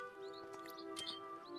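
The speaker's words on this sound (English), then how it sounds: "Birds." Birds chirp in a game world from The Legend of Zelda: Skyward Sword, with a few short bright tweets over a steady tonal music bed, faint and sparse, no talking.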